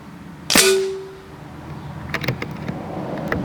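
A .22 calibre Avenger air rifle fires one sharp, loud shot with a brief ringing tail, followed by faint scattered clicks and handling noise.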